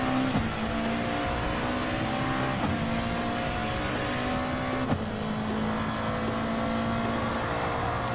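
A race car in a racing video game accelerates out of a corner at Monza, its engine note climbing steadily through the gears with brief dips at each shift, loud and close, with no talk over it.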